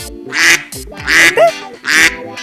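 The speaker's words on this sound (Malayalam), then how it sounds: "താറാവ്." Three loud, harsh quacks in quick succession, close and evenly spaced, each a raspy nasal burst.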